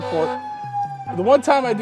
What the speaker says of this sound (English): there's ambulances and fire trucks going all around me